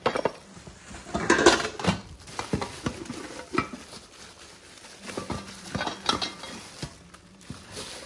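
Pieces of a six-piece metal cooking pot set are handled, giving scattered clanks, taps and rattles of lids and pots at close range with no talk.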